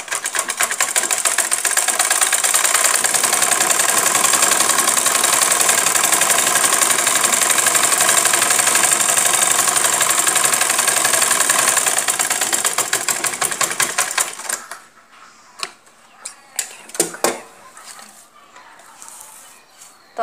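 A sewing machine stitches a kameez seam in a loud, fast, continuous whir for most of the clip, then stops and leaves scattered clicks and handling noises.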